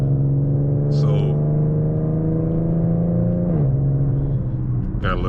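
An Infiniti VQ 3.7-litre V6 holds a steady droning engine note while driving, and the pitch drops clearly partway through. Brief speech bursts sit over the engine.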